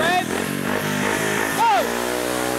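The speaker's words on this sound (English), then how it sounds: "He's getting used to the tremendous power of this motorcycle." A speedway motorcycle engine revs hard and loud at close range, its pitch climbing and dropping in quick surges, with a voice audible over it.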